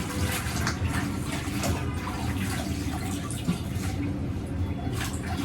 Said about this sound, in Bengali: শাকটা আগে ধুয়ে নেই